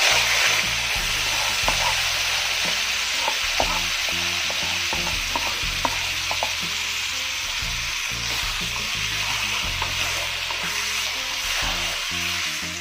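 Chicken pieces coated in spice paste fry in a hot pan with a loud, steady sizzle and crackle, close up, under background music.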